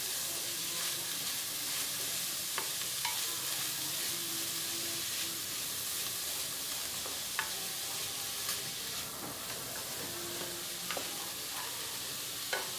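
Two medium chopped onions fry in a pan with a constant dense crackling sizzle, fairly quiet and steady, with occasional faint clicks of stirring.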